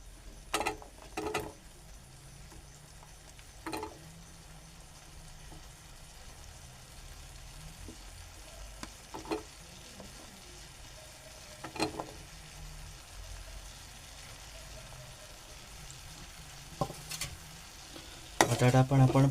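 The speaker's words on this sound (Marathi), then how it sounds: "बटाटा पण आपण परतून घेतलाय." Potatoes sautéing in a pan, a quiet steady sizzle broken by several sharp scraping stirs of a spoon against the pan, with a louder clatter at the end.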